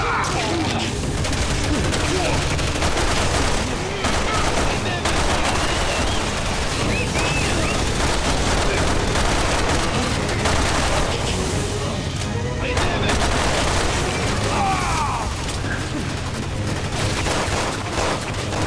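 Sustained, dense gunfire and heavy booms from the video game Resident Evil 6 fill the whole stretch, loud and continuous with bursts of rapid fire and crashing impacts, while a voice talks over the action.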